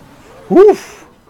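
A single dog bark inside a video game, one short, loud, tonal yelp standing out over quiet game ambience, with no other barks following.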